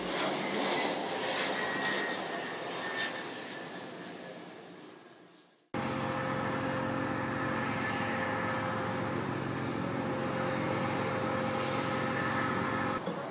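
A small floatplane's propeller engine drones steadily over a harbour, fading out, then a second steady engine roar continues loud and constant, with no voices.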